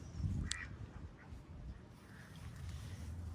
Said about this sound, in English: the neighbors have some ducks, it looks like